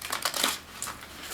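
A deck of tarot cards is riffled and shuffled in a few quick papery bursts close to the mic, then a brief flick and a quieter pause.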